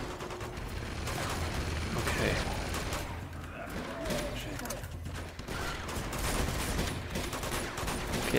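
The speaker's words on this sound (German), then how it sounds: "Jetzt schießen die Eumel auf mich, ey." Enemy gunfire in the action video game Uncharted 2: Among Thieves, with dense overlapping shots and bursts rattling steadily throughout a busy, noisy in-game firefight.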